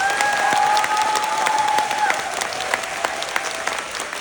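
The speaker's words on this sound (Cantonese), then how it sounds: "再一次俾啲掌聲" Theatre audience applauding the cast at a curtain call, steady dense clapping that starts full and thins slightly toward the end, with a faint tone and scattered voices in the hall.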